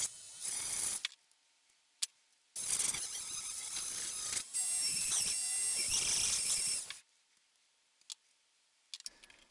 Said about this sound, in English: To start this off, I'm using a handheld rotary tool.